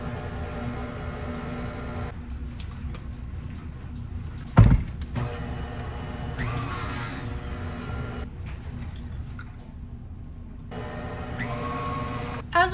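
An electric mixer whirs through pumpkin pie filling as eggs are added one at a time, running in bursts that stop and restart, with a sharp clunk partway through.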